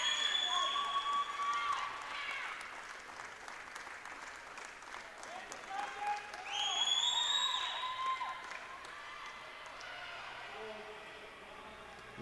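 Crowd at a women's netball championship applauding as a team walks onto the court, sustained clapping with scattered cheers and whistles, steady and fairly loud throughout, with voices mixed in.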